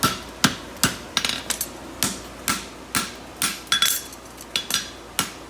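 Hammer blows ring out on hot steel as a farrier scarfs the edge of a bar for a French hind straight heartbar shoe, a dozen sharp metallic strikes in an uneven rhythm with brief rapid flurries between them.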